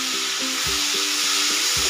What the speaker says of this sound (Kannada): ಈ ಟೊಮೆಟೋಲಿರೋ ಹಸಿ ವಾಸನೆ ಹೋದರೆ ಸಾಕು, ಅಲ್ಲಿವರೆಗೂ ನಾವು ಇದನ್ನು ಫ್ರೈ ಮಾಡ್ಕೊಳ್ಳೋಣ